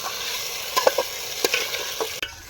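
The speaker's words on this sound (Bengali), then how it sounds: "আলুটাকে কষিয়ে নেব সঙ্গে মশলার সঙ্গে" Potatoes stir-fried with spices and goat fat in a pan at an outdoor riverside cooking spot, steady sizzle under a few quick spoon clinks and scrapes, close and without speech.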